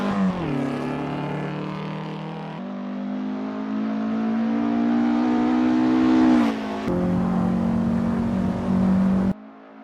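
A vintage race car engine revs hard around a circuit, its strained, buzzing drone climbing steadily in pitch, dropping briefly with each gear change, then climbing again before cutting off.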